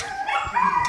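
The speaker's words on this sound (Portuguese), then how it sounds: "E a cachorrada atrás" A pack of dogs at a dog shelter bark and howl in the background, with drawn-out howls overlapping into a continuous chorus. The sound is fairly loud and sits at a middle distance.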